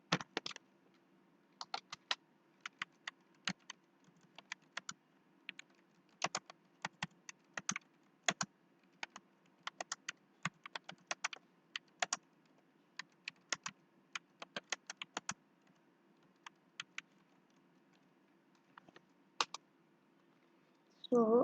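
Rapid, irregular bursts of computer keyboard typing clatter close by over a faint steady hum, with short pauses between runs of keystrokes.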